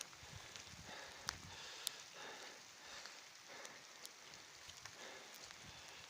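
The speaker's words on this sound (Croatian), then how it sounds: "kiša pada, ko što vidite, kiša, snijeg, šta je već" Rain and sleet fall in a forest as someone walks through, a faint, steady patter with scattered sharper drips and soft footstep-like rustles.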